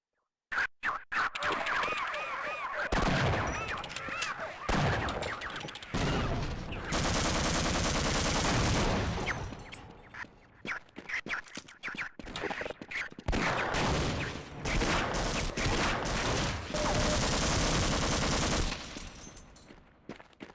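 Sustained SMG fire from Half-Life rattles in long, loud bursts with brief gaps between them, dense and close throughout with no talking.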